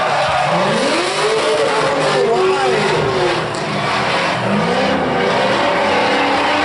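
Drift race car engines roar and rev with rising and falling pitch, tires squealing, loud and continuous, with a commentator talking over the noise.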